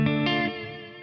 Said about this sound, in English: I can add some chorus.